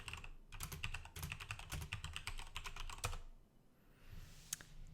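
A burst of rapid keystrokes typing a router command on a computer keyboard, close and crisp, ending in a pause and then one last isolated key press.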